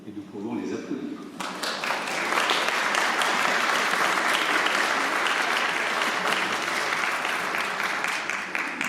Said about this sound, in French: Et nous pouvons les applaudir.